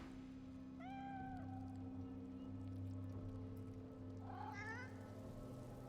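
A skeletal cat in the video game Divinity: Original Sin 2 gives two drawn-out meows a few seconds apart, faint over a steady low ambient drone.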